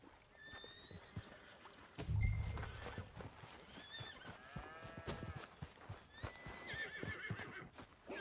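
A horse in the video game Red Dead Redemption 2 whinnies several times with clip-clopping hooves, set against outdoor ambience with a louder thump near the start.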